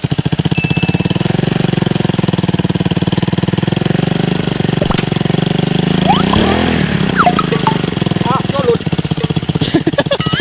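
Motorcycle engine running steadily and loudly up close as someone tries riding it, a constant buzzing drone with brief revving shifts, while people talk over it.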